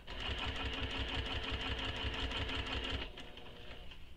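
A sewing machine stitches a seam on a mini backpack. It runs with a fast, steady mechanical rhythm for about three seconds, then stops, leaving a softer, quieter tail.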